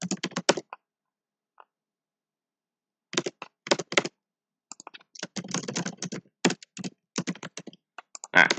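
Rapid bursts of clicking keystrokes on a computer keyboard during a competitive programming session, arriving in irregular clusters separated by pauses, close and fairly clear with no talking.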